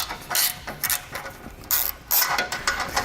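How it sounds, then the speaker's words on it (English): A ratchet with a 15mm socket loosens the bumper bolts on a 2019 Jeep Cherokee, giving bursts of rapid metallic clicking at close range in several short runs, with no speech. "We need to remove both of those bolts. Use a 15mm socket to do that."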